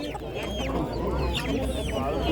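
Chickens and roosters cluck continuously at a busy livestock bazaar, several birds overlapping amid steady crowd and market noise.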